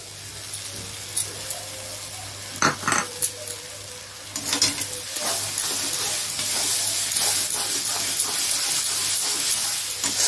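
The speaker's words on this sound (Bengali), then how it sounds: "আদা রসুনটাও দিয়ে দিচ্ছি" Ginger garlic paste frying in spices with chilli paste for mutton korma, a loud steady sizzle and hiss with stirring scrapes and clinks of a spoon against the pan, growing denser toward the end.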